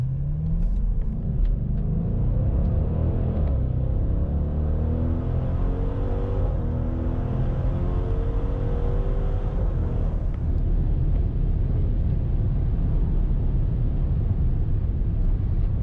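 A heavy, roughly 6,000-pound 550 hp Italian car cruises along curvy back roads on a test drive, its engine a steady, loud, close rumble that swells and sweeps in pitch as it accelerates, with no talking.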